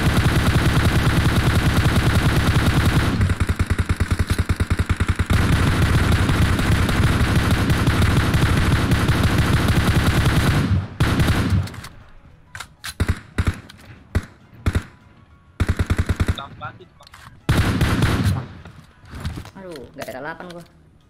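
Gunfire in the PUBG battle royale video game. Dense, loud sustained shooting gives way to scattered sharp bursts and single shots, with players talking over it.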